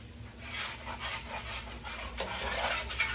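Smothered fried chicken is stirred around a big skillet, with soft repeated scraping and swishing strokes over a faint sizzle, close and fairly quiet.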